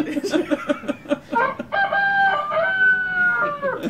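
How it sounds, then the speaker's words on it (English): A rooster starts with a few rapid clucks and short calls, then breaks into one long, loud crow that holds for about two seconds before trailing off. It sounds close and fills the second half. "It's the rooster, man."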